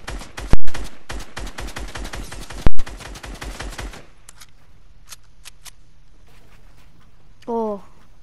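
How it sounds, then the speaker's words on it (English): Rapid automatic gunfire in the Fortnite video game, a dense burst of close shots with two louder blasts. After it, sparse game sound effects follow. "Was I shooting at Adam or Joseph?"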